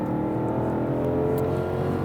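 Ford Mustang GTD, an 800 hp car, accelerating on the Chuckwalla race track, its engine giving a steady, close, loud droning roar with no speech.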